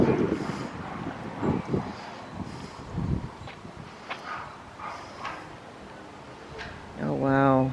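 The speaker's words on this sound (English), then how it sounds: "Ooh, it's windy." Gusty wind in a cemetery buffets the microphone in low rumbling bursts, with a voice speaking briefly near the end.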